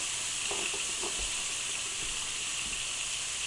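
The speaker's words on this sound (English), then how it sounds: "We'll do that one, and then I'll finish frying these up." Pork sizzles quietly in a pan, a soft continuous frying hiss with a few faint scraping and stirring sounds mixed in.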